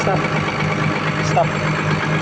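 A Komatsu PC220-7 excavator engine idles steadily during hydraulic pressure testing, a continuous even diesel rumble with brief faint clicks, with talk over it.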